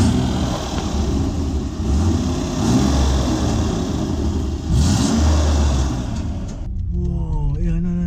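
A BMW E36 328i engine revs in steady, loud, sustained bursts from close by, the note rising and falling twice before it cuts off, after which a person speaks briefly.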